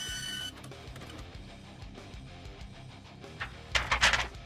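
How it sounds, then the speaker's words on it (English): A printer whirs and clicks quietly, then a louder burst of mechanical feeding and printing noise near the end. "Getting something on my printer."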